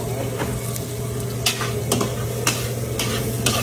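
Garlic sizzles in a hot pan while being stirred, with a steady frying hiss and repeated sharp scrapes and clinks of a utensil against the pan, heard up close.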